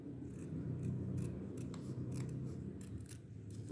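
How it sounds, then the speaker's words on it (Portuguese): Scissors snip through folded paper while paper triangles for festa junina bunting are cut. A string of short, crisp cuts and rasping slides comes close up and fairly quiet, with no voices. "E aí, você vem com a tesoura, você corta."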